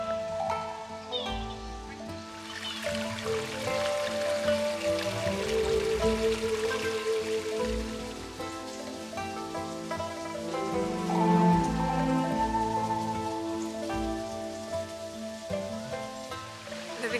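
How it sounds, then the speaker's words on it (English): Small trickling waterfall in a peaceful garden, a steady, close patter and splash of running water that continues throughout with gentle fluctuations. "it's really peaceful in here with the running water of the small trickling waterfall"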